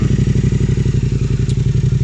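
A Yamaha Tenere 700 fitted with an MTC exhaust idles warm while sitting still, giving a steady, throbbing low rumble with regular even pulses, close and fairly loud, with no talk over it.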